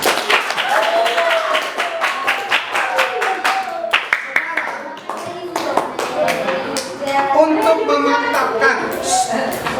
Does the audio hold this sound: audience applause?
yes